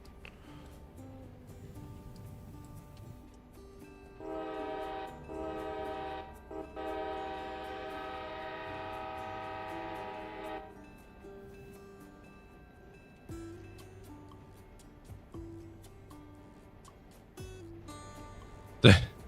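A CSX mainline freight train with locomotive power rolls past, its horn sounding in long sustained blasts mid-pass amid steady rail rumble, with a few brief voices nearby.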